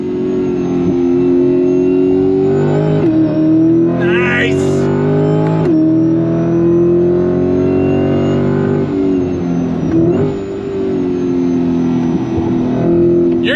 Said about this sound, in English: when she heard the noise from that supercharged V8